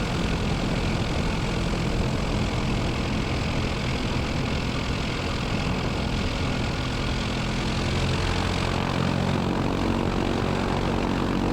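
A Zenith light aircraft's 118-horsepower UL Power 350i engine idles steadily with its propeller turning, a loud, continuous close-up drone and buzz that holds throughout without speech.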